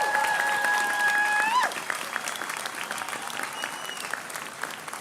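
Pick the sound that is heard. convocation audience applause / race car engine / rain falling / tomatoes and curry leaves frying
convocation audience applause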